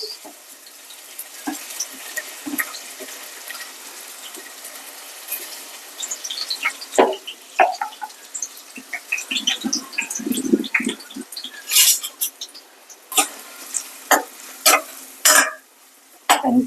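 Onions fry in about four tablespoons of oil in a pan on a stove for a Chennai-style mutton keema curry, with soft sizzling under intermittent clinks and stirring scrapes that grow busier toward the end.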